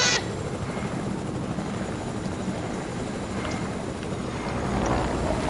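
A video game helicopter gives off a steady, broadband rotor roar that fills the whole stretch at an even, moderate level, with no voices over it.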